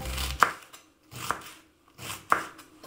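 Three sharp knife chops through cabbage, evenly spaced about a second apart, each a crisp crunch landing on a cutting board, close up with no talking.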